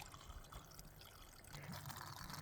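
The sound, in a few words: water trickling from a piped mountain spring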